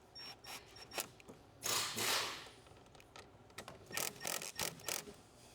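Close, quiet ratcheting clicks and metallic scraping come in short bursts as a hose clamp is tightened on a K&N cold air intake in a Honda Civic engine bay, with pauses between the turns.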